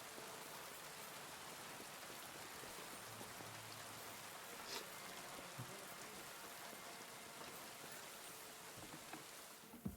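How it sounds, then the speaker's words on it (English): Rain falls steadily in Kingdom Come: Deliverance 2, a faint, even hiss of drops on surfaces that continues throughout with no voices. "Oh, it is actually raining."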